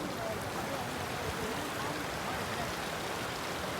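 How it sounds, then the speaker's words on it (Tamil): A river stream near Sonmarg, Kashmir rushes and flows continuously, giving a dense, steady wash of water noise that stays close and loud throughout. "இங்கே பார்த்தீங்கன்னா ஒரு ரிவர் வர ஓடுது, செம்ம கூலிங்கி."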